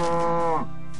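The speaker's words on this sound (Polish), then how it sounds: "Krowa." A cow moos once in Minecraft, a single loud, close, drawn-out low call that tapers off near the end, heard alone without talk.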